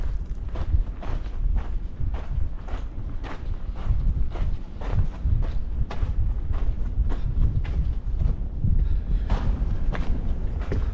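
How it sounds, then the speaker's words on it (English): Wind gusting through a narrow sandstone slot canyon in Crack Canyon, San Rafael Swell, Utah, a steady broadband rush with footsteps crunching along the floor throughout. "The wind in here"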